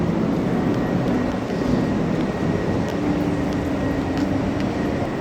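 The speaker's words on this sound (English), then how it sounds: "There is a train arriving on track." An NYC subway train, an R62A car, arrives at a station with a steady, loud rumble and a faint squeal of wheels on rail, continuous and close, with no voices.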